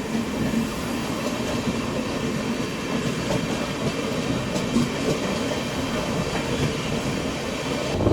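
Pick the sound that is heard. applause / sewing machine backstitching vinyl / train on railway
train on railway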